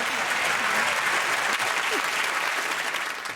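Studio audience applause on a comedy game show, continuous loud clapping throughout, with no pause.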